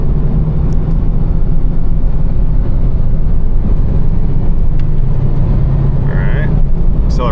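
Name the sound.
S-10 Blazer 4.3 4x4 accelerating on the road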